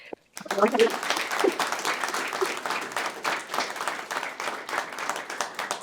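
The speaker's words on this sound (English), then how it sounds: "a big round of applause is due" An audience at a Genocide Awareness Week 2025 gathering breaks into sustained applause, steady and dense from start to finish, with a short sound just before it begins.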